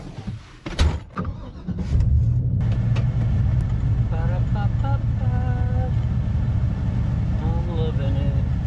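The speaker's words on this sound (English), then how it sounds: "I'm gonna go ahead and back this truck up over there." A truck's engine starts and rumbles steadily as it backs up beside a shed, close and loud, with a few door or handling clunks early and a voice speaking over the idle.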